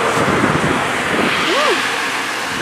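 Strong wind buffets the microphone in a loud, continuous roar, with faint distant sounds underneath.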